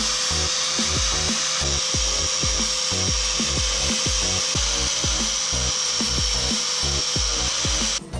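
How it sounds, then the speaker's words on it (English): A steady high-pitched grinding whine runs throughout as a flat disc grinds down metal, with rhythmic low scraping pulses underneath as the disc bites, close and continuous. "So we're going to grind that down with a flat disc."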